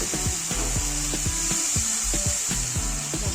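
Spice paste for papaya bhujiya frying and being stirred in a pan, a steady sizzle with repeated scraping strokes of a spatula in a regular rhythm, close and fairly loud.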